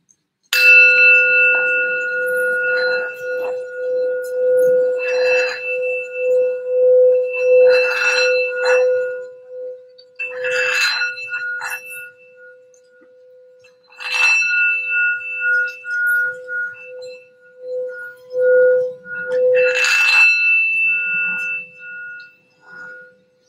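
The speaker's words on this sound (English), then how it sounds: "let's do a quick sound bell for some grounding for the reading" A singing bowl or bell rings out repeatedly, each strike leaving a long, sustained hum and shimmering overtones that fade slowly between hits.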